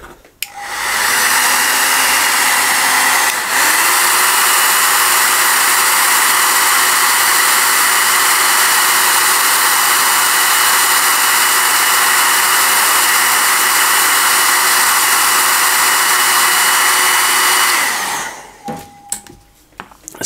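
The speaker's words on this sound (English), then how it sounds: "I'm going to use my hairdryer to force dry that a little bit" A handheld hairdryer blasts air to force-dry fresh paint on a Bladegheist Revenant miniature base, a loud, steady whooshing roar that runs unbroken for about seventeen seconds, then clicks off.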